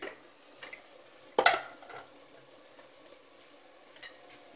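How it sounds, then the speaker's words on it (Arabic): Chicken browning in a pot with onion and tomato sizzles softly and steadily, broken by a sharp scrape and clatter of stirring and a few fainter stirs after, close by and without speech. "الدجاج مزيان، شحر هو والبصله ومطيشه شحرناهم مزيان"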